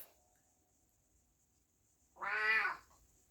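A single short cat meow, close and clear, rises out of a near-silent room and fades quickly.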